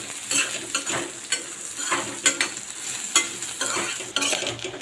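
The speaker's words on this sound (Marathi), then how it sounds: "एक आल्याचा तुकडा घालणार आहे ते चांगलं भाजून घेणार आहे" A piece of ginger roasts in a kadhai with garlic cloves and coconut for a mixed vegetable bhaji, giving a steady sizzle broken by repeated scraping stirs, close and fairly loud, with no talking.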